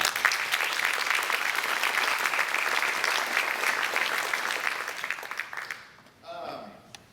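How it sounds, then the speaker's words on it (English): Steady audience applause at an FFA banquet, a dense round of clapping lasting about six seconds before quickly dying away, followed by a brief voice. "and so I'd like to give those kids that at least tried something different a round of applause."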